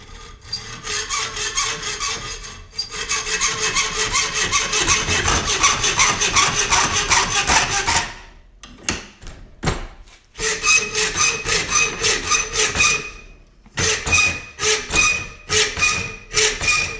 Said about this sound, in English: Can we just hacksaw a little bit of that out already?